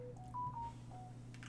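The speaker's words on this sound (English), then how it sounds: "phone going off." A phone sounds a few short, quiet electronic tones of shifting pitch, like keypad beeps, over a low steady hum in a room.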